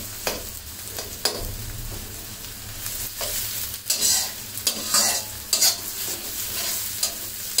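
Chopped garlic fries in a large pot for beef korai, a continuous close sizzle broken by repeated sharp scraping strokes of a spoon stirring it.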